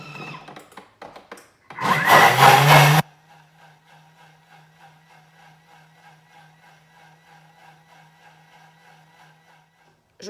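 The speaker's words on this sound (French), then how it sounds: "Et je vais mixer 10 secondes." Thermomix running at speed 10 blending harira soup with flour added, a loud, dense roar bursting in for about a second, then cutting to a quiet, steady low hum.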